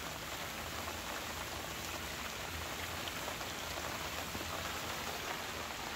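Steady rain falls outdoors on a rainy day near wasp-infested beehives, a dense, even hiss of drops on surfaces that holds at a constant level with no talk.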